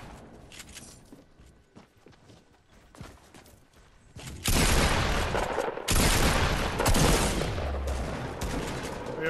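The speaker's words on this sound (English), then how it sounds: "I sniped him with the revolver" Loud gunfire bursts from the Fortnite Battle Royale video game, with faint scattered shots and footsteps first, then a sudden heavy blast of sustained shooting that stays dense and near until the end.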